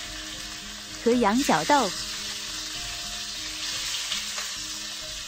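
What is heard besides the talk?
tomato and okra stir-frying for Assam fried fish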